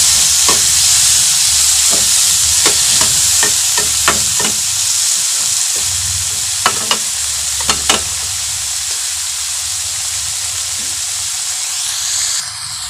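Loud, steady sizzle of onion and tomato sautéing in a frying pan, with scattered spatula scrapes and stirring clinks over the constant frying hiss and no talk.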